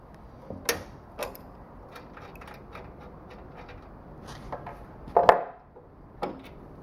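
A cast aluminum valve cover coming off a small 196cc diesel engine, a scattering of sparse metallic clicks, clunks and scrapes, close up, with a sharper clatter near the end and quiet gaps between.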